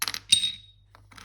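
Small charms and dice dropped onto a hard surface during a tarot card reading, giving a burst of bright clattering clicks, a second jingly spill, then a few scattered faint taps that settle into quiet.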